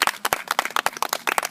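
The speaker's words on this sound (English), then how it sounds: "they will applaud you." A small audience at a renaissance festival show claps in quick, uneven bursts close by, a short lively patter of hands with no voices.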